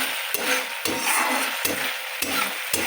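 Spice masala with tomato and green chili fries in a pan, a steady sizzle broken by four or five regular scraping strokes of a spoon stirring it, close and fairly loud with no talking.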